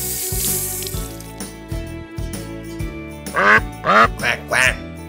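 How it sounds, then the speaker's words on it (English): A duck quacks four times in quick succession, loud and close, following a stretch of quieter knocking and muted background sounds. "Called the duck."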